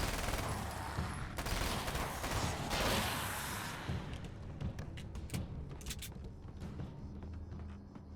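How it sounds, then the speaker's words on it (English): Gunfire in the video game Alan Wake's American Nightmare, a dense fusillade of rapid shots and thuds over a loud, busy game soundscape, with sharp bursts continuing throughout. "All right, now I can shoot."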